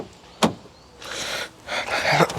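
A Vauxhall Corsa 1.4 door opening, with a sharp click of the latch followed by two longer bursts of mechanical whirring and rustle, fairly close and with no talking.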